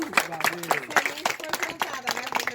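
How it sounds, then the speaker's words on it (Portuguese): A small community garden gathering applauds near at hand, the steady patter of clapping running under a speaking voice and the cheerful talk of a few people. "Uma salva de palmas para vocês."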